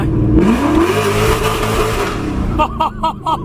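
A straight-piped Ford GT roars loudly after a clutch pop, its engine note sweeping upward and holding, then breaking into a quick run of sharp, rhythmic bursts near the end.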